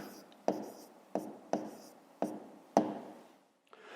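Pen or pencil writing numbers while a math problem is worked out: a handful of short, close scratchy strokes, each starting with a tap, spaced about half a second apart.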